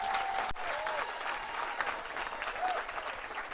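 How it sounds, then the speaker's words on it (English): An audience claps for a cleaning lady at a climate justice summer school in Nairobi, a dense, steady round of applause at moderate distance with a faint tone and a sharp knock near the start. "Can you clap for her?"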